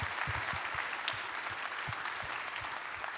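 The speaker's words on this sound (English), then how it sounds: "And you're clapping" An audience at a conference plenary session applauds, a sustained, even wash of many hands clapping, moderately distant and fairly quiet throughout.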